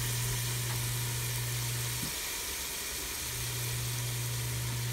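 Tomato sautéing for ginisang monggo, a mung bean stew, with a steady sizzle over a low, constant hum that runs through the whole stretch, with no talking.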